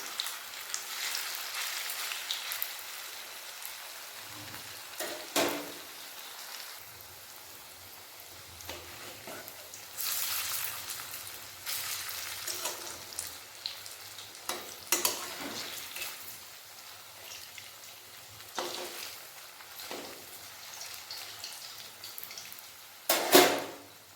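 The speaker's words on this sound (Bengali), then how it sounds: "তেল গরম হয়ে গেছে এরপর একে একে বড়াগুলো এভাবে দিয়ে দেবো দিয়ে সবগুলো ভেজে নেব" Cauliflower pakoras fry in hot oil, a soft steady sizzle and bubbling at low level, with occasional louder clatters of a utensil and pieces being moved in the pan.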